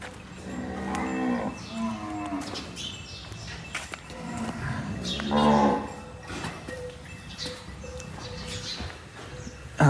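Cows and a calf mooing in a farm setting, several drawn-out low moos overlapping at close range, with a louder call in the middle and faint background rustle.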